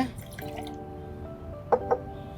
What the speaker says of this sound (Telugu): నేను ఫార్టీ ఫైవ్ ఎంఎల్ కుకుమర్ జ్యూస్ తీసుకుంటున్నాను